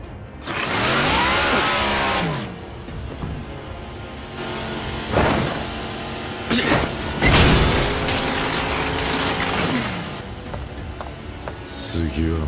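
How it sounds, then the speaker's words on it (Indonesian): An anime chainsaw's motor revs and snarls in bursts, mixed with voices, music and other loud action sounds. "Di saat suara gergaji Denji berbunyi"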